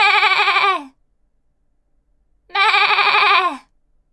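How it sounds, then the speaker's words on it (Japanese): Sheep bleating in two loud, wavering calls about a second and a half apart, close by, with silence between them and no talking. "羊、"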